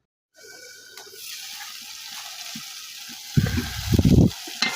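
Spice paste sizzles and fries in oil in a covered pan, a steady soft crackle running throughout, with heavier clattering bursts near the end, likely from the lid or utensils being handled.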